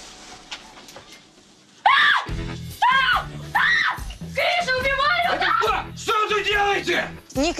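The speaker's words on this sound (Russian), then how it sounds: "Не кричите, пожалуйста." Several people scream loudly in repeated, overlapping shrill bursts after a quiet start, with voices yelling in between.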